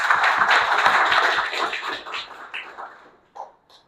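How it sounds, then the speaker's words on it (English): Applause from a Toastmasters audience, dense clapping at first that thins out into scattered individual claps and fades away near the end. "Please give a big round of applause."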